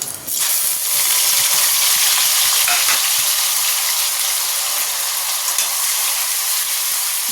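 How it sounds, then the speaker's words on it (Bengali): A spice paste of onion, chili, ginger and garlic fries in hot oil with a loud, steady sizzle, broken by occasional stirring. "ভালো করে কষিয়ে নিতে হবে"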